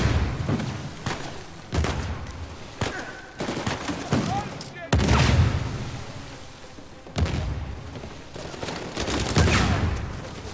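Sustained gunfire in Uncharted 4, heavy repeated shots and bursts crackling back and forth with booming thuds, nearly continuous and loud across the whole stretch.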